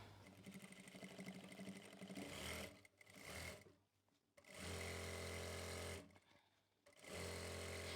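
Sewing machine stitching the long round seam of a Punjabi chakvi salwar, loud and close, running in long steady bursts separated by brief pauses.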